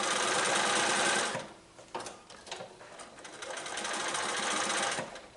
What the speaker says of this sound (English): So I'm just sewing a 1/4 inch